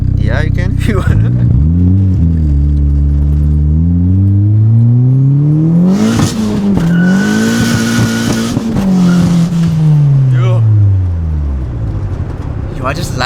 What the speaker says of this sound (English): This is something different in the Honda when it's turboed.